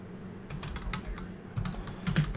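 Fast, close typing on a semi-mechanical computer keyboard, a busy run of clicky keystrokes that swell in loudness toward the end, with no voices.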